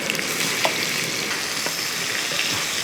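Masala-coated okra frying in coconut oil gives a loud, dense sizzle that stays steady throughout. A few faint clicks come through under it, probably pieces being placed in the pan, and nobody speaks.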